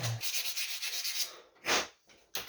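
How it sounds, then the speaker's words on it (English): Short bursts of 100-grit sandpaper rubbing back and forth while shaping a crankbait fishing lure, a quick series of raspy strokes followed by a couple of separate scrapes, close and fairly quiet. "where's my 100 grit sandpaper again?"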